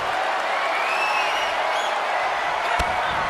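A WWE RAW wrestling arena crowd applauds and cheers in a dense, continuous wash of noise, with one sharp clap or thud near the end and no clear speech over it.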